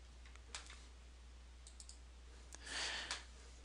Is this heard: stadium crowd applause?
no